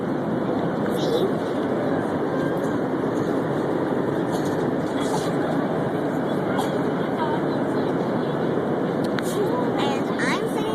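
Inside an airplane cabin in flight, a steady, loud broadband roar fills the whole stretch without change, with faint brief sounds over it.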